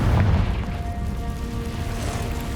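Confringo blasting spell explosion in Hogwarts Legacy, a loud booming blast at the start followed by a sustained rumbling tail and lingering tonal effects, alone without talk.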